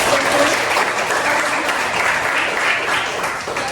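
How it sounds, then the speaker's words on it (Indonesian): An audience in a university certification teaching session gives steady, full applause, loud and close throughout, tapering slightly at the end. "Tepuk tangan dulu."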